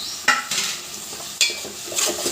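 Tomatoes tossed into a hot pan while cooking dal sizzle and fry, with a few sharp stirring scrapes rising over a steady, close crackle.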